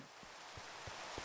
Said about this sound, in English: Probably get caught out here in the rain.